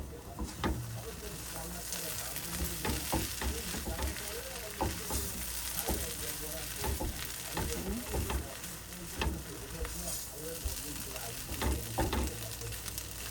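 A spiced chicken mixture for crispy chicken donuts sizzles steadily in a pan while being stirred, with irregular scraping and clicking strokes over a continuous frying hiss, close and moderate in level.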